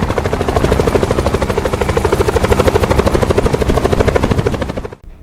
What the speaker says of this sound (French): Un hélicoptère est passé.